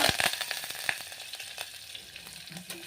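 Curry leaves hitting hot oil with cumin, mustard seeds and garlic for a red lentil dal tadka, crackling in a dense close sizzle with sharp pops scattered throughout.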